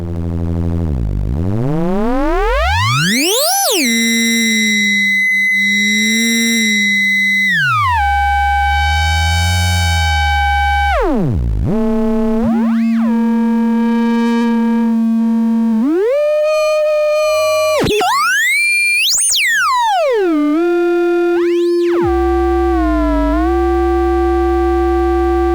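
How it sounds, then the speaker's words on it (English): Tone from a Joranalogue Collide 4 synthesizer module, loud and synthetic, sliding through sweeping pitch glides and buzzy held notes with harmonic frequency-modulation textures, alone without voices. "I'll remove the sequence, just to get a steady tone out of there."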